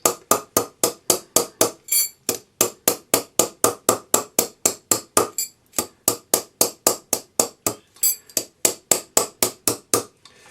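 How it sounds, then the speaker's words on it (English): Rapid, steady metallic taps of a small jeweler's hammer striking the edge of a hollow metal bangle, dozens of sharp, bright hits in an even rhythm, close up. "So you're just going to tap on the edge"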